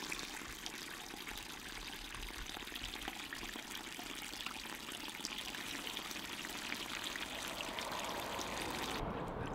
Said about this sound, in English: It's got a really slow hose.